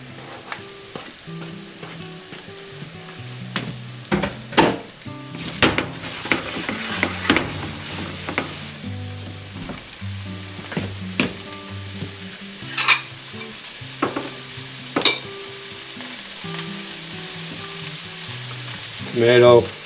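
Green onions and ham sizzle in a hot pan while an omelet is prepared, with steady crackling frying and occasional stirring scrapes and clinks from a utensil over about twenty seconds.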